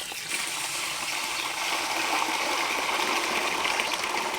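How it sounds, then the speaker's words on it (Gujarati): Water pours steadily into a pot of rice to soak it for a spiced tempered rice dish, a continuous close gushing splash with no talking. "આપણે પાણી નાખીને પહેલાં એને પલાળી દઈ"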